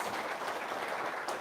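An indoor audience of men and women claps together in a brief burst of applause, a dense and even patter that holds steady at moderate loudness.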